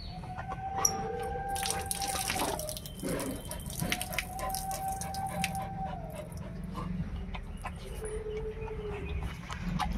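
A tap left running for a pet dog named Koko to drink from gives a steady splash, joined by whining animal calls and a rooster crowing nearby.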